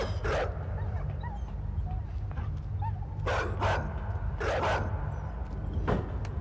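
A dog barks in a video game as it chases the player, sending several sharp yipping barks in short bursts over steady background noise and game ambience.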